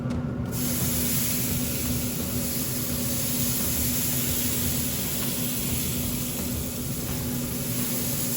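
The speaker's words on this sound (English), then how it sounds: "I'm gonna go ahead and spritz it with some apple juice, apple cider vinegar, and the hot sauce" Smoked pork on a Pit Boss is spritzed with apple juice, cider vinegar and hot sauce, a brief spray burst at the start followed by a steady, faint hissing background with a low hum.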